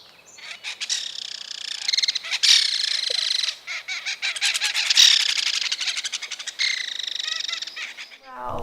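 Loud, raucous birds calling in flight, with a rapid chattering, laughing cackle reminiscent of Woody Woodpecker; repeated bursts pour out close and strong for several seconds before cutting off.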